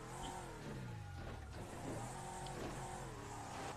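Car engine in GTA V accelerating, a steady revving drone rising and falling in pitch over continuous game noise, loud and close throughout.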